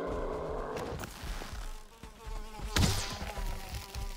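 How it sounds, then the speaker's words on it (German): A mosquito in the video game Valheim buzzes close by with a steady, harmonic drone, joined by thuds and footstep-like knocks, one louder impact near the end, and no voices. "Oh nee, Mann, die scheiß Mücke macht mich wahnsinnig hier."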